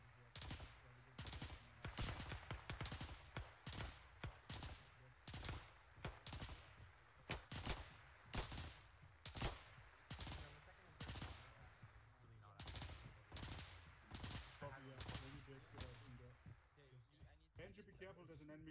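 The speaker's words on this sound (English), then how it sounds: "Who the fuck is firing?" Gunfire in the World War II setting of the video game Arma 3, rapid bursts of automatic fire and single shots cracking through the scene, some close and loud, others farther off, continuing throughout.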